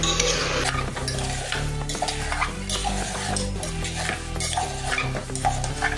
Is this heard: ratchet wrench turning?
no